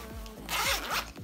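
A zipper on a school backpack is pulled open along a compartment in one quick, close rasping run with a brief catch near the end, no voices.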